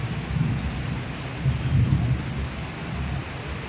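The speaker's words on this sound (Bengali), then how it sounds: "এবার এখন বৃষ্টি শুরু হয়েছে" Steady evening rain hisses evenly, with a low rumble of thunder swelling underneath; no voices.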